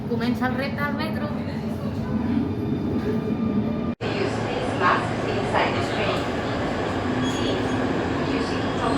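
A Barcelona metro train rumbles along with a loud, steady roar, wheels clattering and a brief squeal, with a sharp cut partway through.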